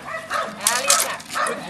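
A Belgian Malinois gives a few sharp barks and yips during bitework training, close and fairly loud in a short burst, with people talking around it.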